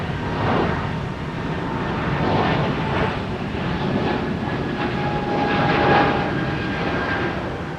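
An airplane takes off at Minneapolis–St. Paul Airport with a loud, steady engine roar. The sound holds for several seconds and swells slightly toward the end, with no speech.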